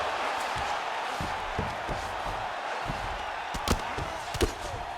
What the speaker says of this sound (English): he slams his opponent down.